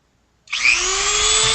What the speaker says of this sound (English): Great Dremeling action.